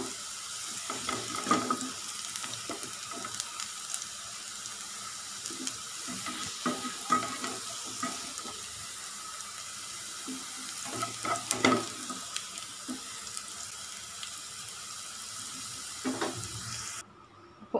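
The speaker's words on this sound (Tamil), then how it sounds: "அதாவது இந்த எண்ணெயில் வதக்கிறதுலையே கொஞ்சம் வெந்துடும். அந்த மாதிரி வதக்கிக்கோங்க." Bitter gourd is sautéed in oil in a pan, giving a soft continuous sizzle with faint stirring scrapes and clinks throughout, quiet and steady.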